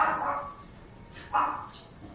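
A couple of short dog barks ring out, somewhat muffled and distant, separated by a brief quiet pause.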